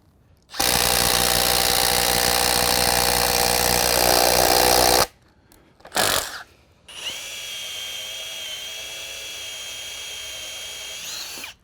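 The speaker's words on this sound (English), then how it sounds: "I use a masonry drill to drill a hole in the brickwork" A masonry drill bores into brickwork with a loud, harsh grinding roar for several seconds, stops, gives a short burst, then resumes at a steadier, slightly lower whine.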